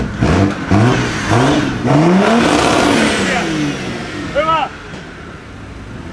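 Several cars revving engines at a night car meet cruise in Seinäjoki, repeated rising rev bursts from different directions, loud and close, with people shouting and talking over them.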